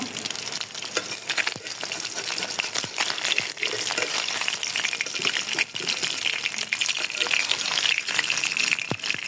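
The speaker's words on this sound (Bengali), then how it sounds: "মাছগুলো ভাজা হয়ে গেছে, এখন উঠিয়ে নেব" Dense crackling sizzle of rohu fish frying in oil, loud and continuous with scattered pops and spatters throughout.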